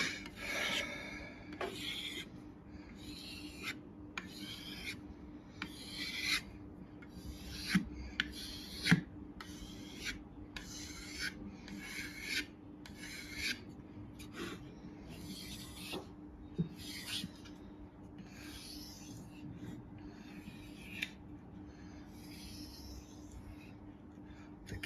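Kitchen knife drawn in repeated strokes across a store-bought whetstone, a steady rasping scrape in even rhythm with brief pauses between passes, close and fairly quiet with no talking.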